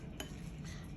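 A single spoon clinks against a bowl while tomato, basil and garlic sauce is stirred, followed by soft, faint mixing noise in a quiet kitchen.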